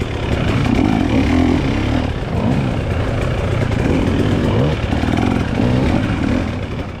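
Dirt bike engines race through a hare scramble course: a loud, steady mid-pitched roar with repeated rising and falling revs as riders accelerate and shift, close to the listener throughout.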